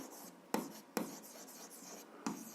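Pen scratching on paper while writing out algebra notes, a soft continuous scribble close by, broken by four sharp taps of the pen tip, quiet room.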